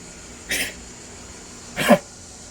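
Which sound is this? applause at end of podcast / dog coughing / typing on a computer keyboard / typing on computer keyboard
dog coughing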